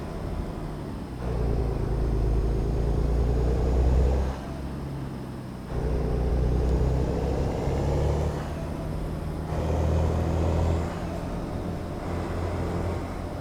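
A slow truck engine droning steadily in American Truck Simulator, with a low rumbling hum and gentle rises and falls in pitch as it drives along, loud and continuous with no talk.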